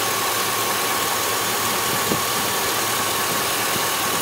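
A 2000 GMC Sierra pickup engine with a slight misfire idles close by, giving a loud, steady, rough rumble throughout.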